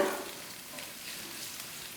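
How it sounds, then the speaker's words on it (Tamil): Soft, steady sizzle of garlic and ginger frying lightly in a hot pan, close and continuous with no talking. "ஃபஸ்ட்டு கொஞ்ச நேரம் இதை லைட்டாக வதக்கிடுங்க."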